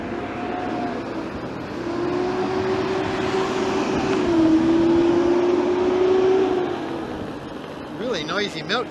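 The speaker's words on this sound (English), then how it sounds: "Noisy milk truck, boy." A Meadow Gold Dairy milk truck rumbles past on a road with a broad engine drone and a steady whining tone that swells and fades over several seconds, heard from a recumbent bike with someone talking.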